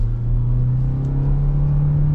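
Toyota Corolla Cross Hybrid crossover, 2026 model, accelerating at full throttle with the pedal floored: a steady, loud low engine drone and road rumble that holds constant throughout, with no talk.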